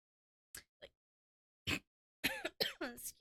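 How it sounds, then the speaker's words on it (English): A soft little cough comes twice in quick short bursts, then once more after a pause. A few close, quiet throat sounds or murmurs follow, all in a calm indoor setting. "a little cough"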